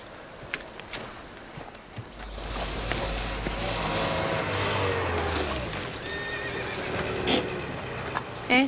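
A horse whinnies loudly in a long, wavering call, followed by hooves clopping on the ground and a low engine rumble in the background.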